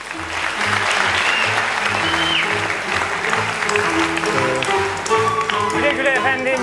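Loud, dense applause from a large crowd at the Turkish stage comedy show Artiz Mektebi, steady throughout, with a voice speaking over it and some scattered tonal sounds mixed in.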